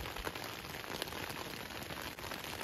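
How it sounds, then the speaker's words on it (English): Steady rain falls at 4 a.m. on a hiking trail along the Pacific Crest Trail, a constant soft hiss of drops close by with no other sounds. "It's 4 a.m. and it's raining."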